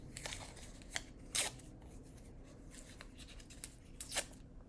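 Scissors snip through folded paper in a quiet room, a series of short crisp cuts at an irregular pace, close and fairly faint.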